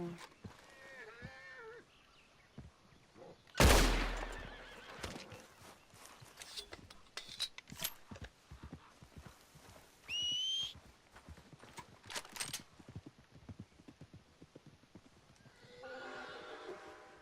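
A horse in the Red Dead Redemption 2 game whinnies, then trots off with rhythmic clip-clopping hooves, joined by a sharp burst of clatter and a brief tonal game effect.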